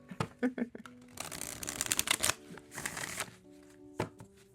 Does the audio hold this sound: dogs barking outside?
no